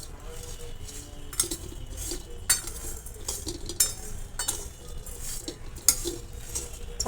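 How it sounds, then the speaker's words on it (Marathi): A spoon stirs and mixes instant idlimbu (citron) pickle in a bowl, giving soft repeated scraping and light clinks at an uneven rhythm, fairly quiet and close. "आणि आता हे सर्व व्यवस्थित मिक्स करून घेणार आहोत"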